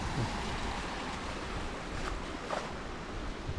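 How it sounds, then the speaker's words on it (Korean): Steady rushing water of a mountain stream in a valley on Dobongsan flows continuously, a broad even wash of noise, fairly quiet, with no voices. "물소리가 시원하네요."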